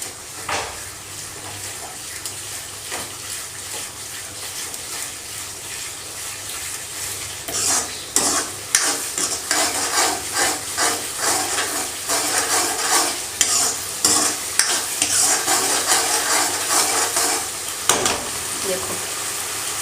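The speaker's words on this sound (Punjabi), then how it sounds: "ਹੁਣ ਇਹਨੂੰ ਫੁੱਲ ਕਰਕੇ ਤੇ ਕੜਛੀ ਨੂੰ ਹਲਾਈ ਜਾਣਾ ਤਾਂ ਕਿ ਦਹੀਂ ਫਟੇ ਜਾਵੇ" A ladle stirs a yogurt spice masala in a pan, with steady scraping and sloshing that grows louder and busier after the first few seconds, joined by a soft sizzle and no talk.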